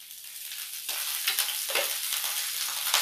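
Broccoli dropped into hot oil in a pan, with a faint hiss that jumps into a bright, loud sizzle and keeps crackling close by with stirring scrapes.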